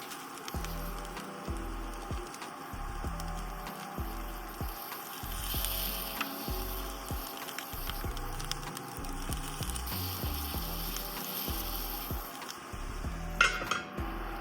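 Onions and Brussels sprouts fry in hot oil in a pan for a veggie omelette, giving a steady sizzle. Soft clinks and scrapes of stirring sound throughout.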